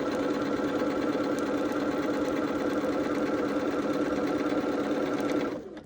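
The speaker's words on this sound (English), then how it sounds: "Holding it in place, sewing to the seam, needle down." A sewing machine runs steadily, stitching quilt pieces together along a seam for a Hunter Star blue and gold quilt, a continuous close whir throughout before slowing and stopping at the very end.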